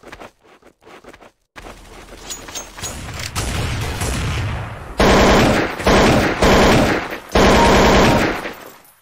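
Automatic gunfire from Counter-Strike: Source rattles in loud, sustained bursts that build after a few faint early shots, with a brief break between heavy volleys and no talking.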